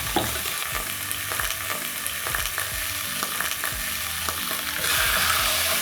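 Osso buco pieces of meat sear loudly in a hot pan, a dense continuous sizzle and crackle with occasional scraping clicks, growing slightly louder near the end.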